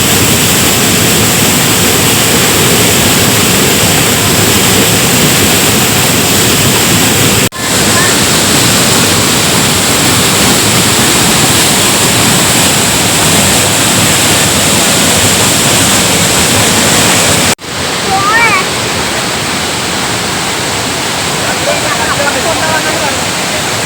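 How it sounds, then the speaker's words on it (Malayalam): Meenmutty waterfall crashing straight down into the pool below, a loud, close, steady roar of rushing water that holds unbroken apart from two sharp momentary dips. "ഇവിടെ നമ്മുടെ വെള്ളച്ചാട്ടം നേരെ താഴെ പതിക്കുന്നത്, ഇവിടെയാണ് വന്ന് പതിക്കുന്നത്"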